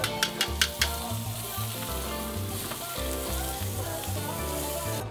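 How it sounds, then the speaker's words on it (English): Food sizzles steadily on a backyard barbecue grill, a loud continuous frying hiss near at hand, opening with a few sharp clicks and with no voices over it. "Got the barbecue going right behind me."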